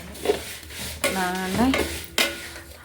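Vermicelli roasting in a pan for semiya payasam, stirred in a few distinct scraping strokes over a soft sizzle, close and moderately loud.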